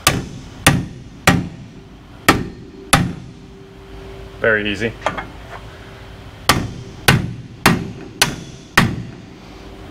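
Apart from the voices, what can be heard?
small hammer striking metal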